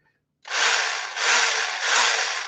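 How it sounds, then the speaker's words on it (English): A small battery-operated 4-inch chainsaw starts up abruptly after a moment of quiet and runs with a steady high-pitched electric whine, rising slightly in three close, loud pulses. "it's basically a little battery operated 4-inch chainsaw"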